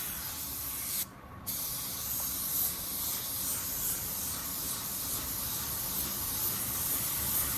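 A spray gun hisses continuously inside a paint booth as it coats a car panel, a dense, close, unbroken spray broken only by one brief pause near the start.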